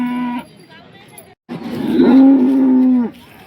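A cow gives a long, loud moo up close at a cow market in Sangola, rising and then holding steady for over a second before cutting off, after a brief quiet pause.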